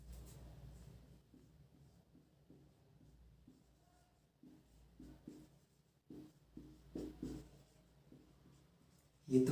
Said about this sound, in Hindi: मैं आज यहाँ सारा लिख रहा हूँ।